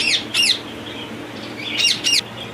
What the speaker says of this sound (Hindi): ये एक रिंग नेक का पेयर है और ब्रीडर पेयर है